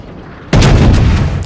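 Naval ship guns fire in World of Warships, a single loud booming salvo that erupts after a brief quiet moment and rumbles away over about a second.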